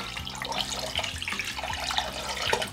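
Water pours into a small saucepan with sugar to make syrup, a steady splashing, bubbling trickle with tonal glugs, close and continuous, with no voices.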